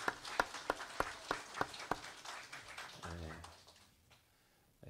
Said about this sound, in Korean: 우리 경성군 앞길을 하나님께서 선하고 아름답고 복된 길로 인도해 주시기를 염원하는 박수로 다시 한번 격려하겠습니다